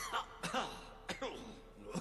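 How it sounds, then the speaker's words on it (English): An old man coughs in Fable 3, a few rough, throaty hacks and throat-clearing bursts spaced across two seconds, close and fairly clear with no talking over them. "Well, he's coughing."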